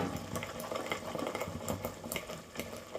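Potato curry bubbles in a pan on the stove, a close, continuous gurgling simmer with soft popping bubbles.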